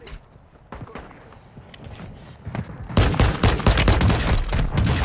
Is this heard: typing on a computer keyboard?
no